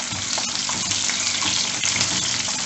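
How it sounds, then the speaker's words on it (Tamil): Small onions with chilies and curry leaves sizzle in hot oil in a pan for a Tamil vatha kuzhambu, a continuous, close, crackling fry with no pauses. "இதை கொஞ்சம் நேரம் நல்லா வதக்கணும்."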